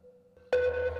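A steady synthesized submarine sonar ping holds alone, then jumps abruptly louder into a harsh, distorted, buzzy sustained version that rings on to the end.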